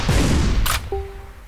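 A weapon firing in the artillery game ShellShock Live: a dense burst of explosive blasts, a sharp hissing crack, then a thin ringing tone fading out.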